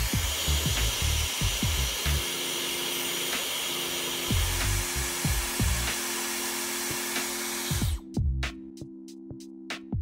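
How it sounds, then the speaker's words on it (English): A regular hairdryer blows steadily to warm the display of an Apple Watch Series 6, a continuous close whir with clicks and knocks over it, then it cuts off near the end, leaving a few sharp taps. "warm up the surface of the display with a regular hairdryer"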